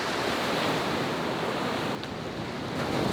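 Ocean waves surge and wash up a Costa Rican nesting beach in a steady, loud roar of surf with wind noise, easing briefly before building again.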